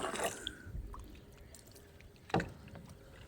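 A wooden fishing boat drifts on calm water at sunset, very quiet, with a soft paddle splash at the start and a sharper splash near the end.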